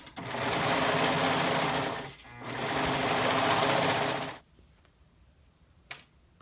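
A sewing machine stitches the shoulder seams of a tank bodice in two steady runs of about two seconds each, with a short pause between them, then stops and leaves near silence.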